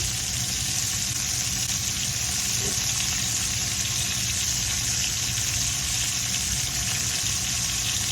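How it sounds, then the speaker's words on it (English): Continuous loud sizzling of beef searing in hot oil in a pot, steady and close, with no voices. "See that sizzle?"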